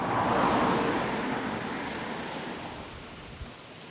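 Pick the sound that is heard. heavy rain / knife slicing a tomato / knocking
heavy rain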